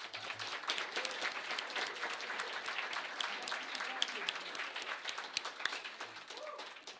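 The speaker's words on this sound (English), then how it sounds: "give a round of applause to their coaches and faculty advisors that are here today" Applause rings out for coaches and faculty advisors at the opening ceremony of a competition, a sustained crowd of clapping hands heard at a moderate distance, with scattered louder claps throughout.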